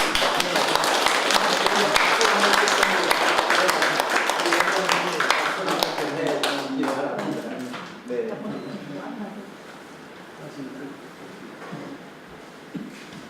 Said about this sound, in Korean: 저 큰 스님 죄송하지만 박수 한 번 좀 보내주시고